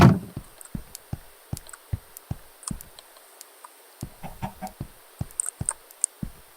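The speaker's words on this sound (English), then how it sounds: "You only need one chicken because you can get eggs from that chicken." Scattered Minecraft chicken clucks with sharp game ticks and knocks between them on a skyblock map, spaced irregularly and fairly soft, with no voices.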